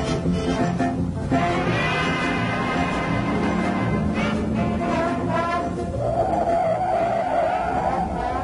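A 1971 or 1972 Buick Riviera GS stops hard from speed, its tires squealing in a long, loud, steady skid that holds for several seconds, rising in pitch toward the end.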